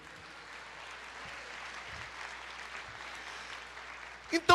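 A church congregation applauds during a Bible study service. Dense, steady clapping fills the space at moderate distance, and a couple of louder sharp bursts come near the end.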